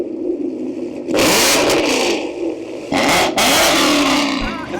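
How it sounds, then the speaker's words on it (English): Ford Mustang GT with a Corsa Extreme X-pipe exhaust, not straight-piped, revving hard in the city: two loud, roaring bursts, each about two seconds long, rise over a low idle rumble. "So with the exhaust, we have the Corsa Extremes exhaust, X-Pipe."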